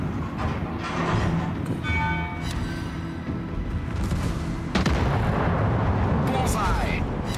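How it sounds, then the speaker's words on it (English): Secondary guns of a warship firing in World of Warships, heavy booming shots over a dense rumbling battle bed, with a sharper louder burst near the end and a voice talking underneath. "the secondary guns are now shooting"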